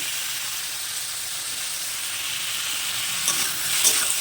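Sliced bottle gourd and potato fry in a pan with a continuous dense sizzle, and a couple of brief utensil scrapes and clatters come near the end.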